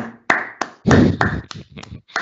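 A lone host claps by hand at the close of an online conference on the post-Covid digital legacy, giving a short run of close, uneven claps with gaps between them.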